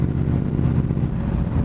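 A 1966 Chevrolet El Camino engine roars steadily at close range while accelerating, a continuous low rumble throughout with no talking.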